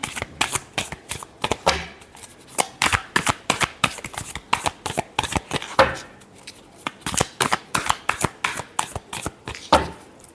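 A deck of tarot cards is shuffled close up, with a steady run of crisp riffles and slaps repeating quickly and loudly, each flick sharp and distinct.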